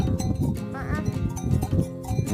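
Sheep and lambs at a farm bleating close by, one clear wavering bleat among the dense, noisy murmur of a flock.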